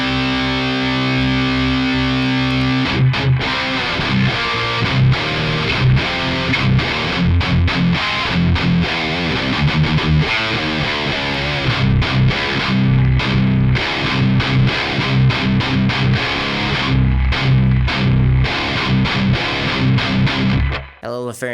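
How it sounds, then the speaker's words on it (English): A high-gain electric guitar played through the Revv Generator 120 amp model on an Axe Fx III roars with heavy distortion, chugging riffs and sustained chords that run continuously at full volume before cutting off near the end. "Let me crank some gain a little bit so you can see what it sounds like when we move gain."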